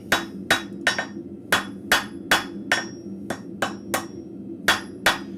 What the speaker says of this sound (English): If something's being a little stubborn, I need to hit it down a little bit more controlled. Coming on the edge of the anvil.